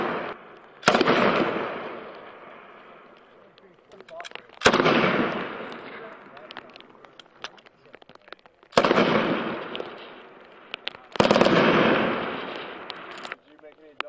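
An M249 or M240 machine gun fires four separate short bursts on an outdoor range, each a loud, sharp crack followed by a long rolling echo that fades before the next, with brief talk in between.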